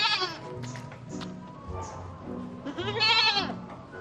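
A goat bleats several times in quick, wavering cries, close and fairly loud, with a longer quavering call near the end.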